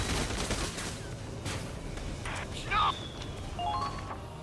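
Bursts of gunfire crackle across a Valkyria Chronicles 4 battlefield, quick volleys and single cracks at moderate distance, set against a busy background of game sounds and a voice speaking.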